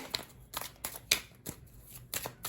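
Tarot cards being shuffled by hand in a tarot reading, riffling in quick bursts of papery flutter separated by brief pauses, close and clear with no talk.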